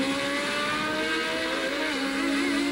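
1982 Formula 1 race cars roar through the Ostkurve chicane at Hockenheim. A loud, continuous high-pitched engine howl holds steady for the whole stretch with no pauses.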